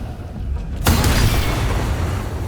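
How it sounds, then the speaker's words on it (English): A Booming Blade spell strike in the video game Baldur's Gate 3, erupting as one sudden loud boom just under a second in, followed by a sustained rumbling wash. "Booming Blade."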